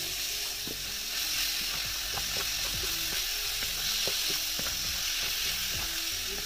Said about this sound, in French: Ensuite, je rajoute ma viande hachée